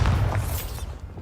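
A Bombarda blasting spell in Hogwarts Legacy detonates in a single short, heavy boom with a low rumble that quickly fades.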